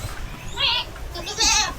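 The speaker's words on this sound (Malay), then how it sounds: "Kambing." A goat bleats twice at a petting spot in Kuala Lumpur, two wavering cries close by, with a short gap between them over faint background noise.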